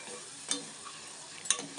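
A ground paste of tomato, onion and garlic stirred in a pan for sambar: two soft spoon scrapes about a second apart over a gentle, steady sizzle, close and quiet.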